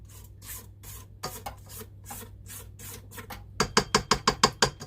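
A spatula scrapes snickerdoodle cookie dough around a mixing bowl in a run of dry rubbing strokes, starting sparse and turning into a quick, louder rhythmic series near the end.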